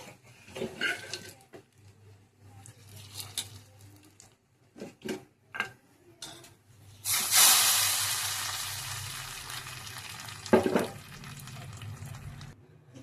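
Hot fried tempering tipped into a pot of sambar bursts into a sudden loud sizzle that fades over a few seconds, preceded by scattered clinks and handling knocks of utensils.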